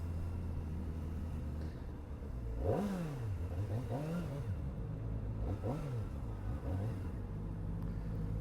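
A motorcycle engine idles with a low rumble, then revs up in a few rising and falling throttle bursts, close by.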